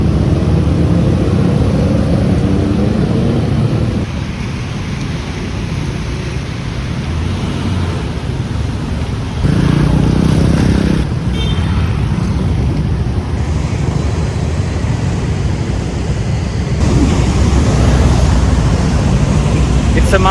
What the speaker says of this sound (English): this is what Monday morning traffic looks like in Bangkok at around 8:30, 8:20 a.m.